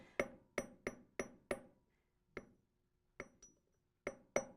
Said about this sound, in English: When you hammer it, it hardens the metal so it keeps the shape.